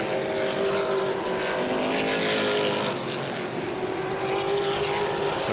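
A pack of modified race cars roars around Langley Speedway, a continuous loud blend of engines at full throttle with rising and falling pitch as they pass through the turns.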